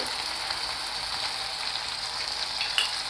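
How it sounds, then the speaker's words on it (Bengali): Steady, dense sizzle of ginger-chili paste with ground coriander and cumin frying in a pan on low flame, close and continuous with a faint stir scrape near the end. "লো ফ্লেমে করে মশলাটাকে এক মিনিট নেড়েচেড়ে একটু ফ্রাই করে নিচ্ছি"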